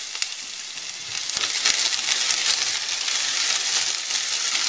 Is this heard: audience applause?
no